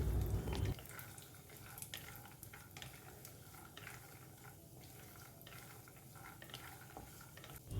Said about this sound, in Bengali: এবার বাদামগুলোকে একটু ভেজে নিচ্ছি